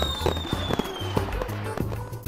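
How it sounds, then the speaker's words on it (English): A New Year fireworks display crackles and pops in a rapid irregular stream of sharp bangs, with a whistling rocket tone gliding downward across the first second, loud and close throughout. "What a fantastic firework display!"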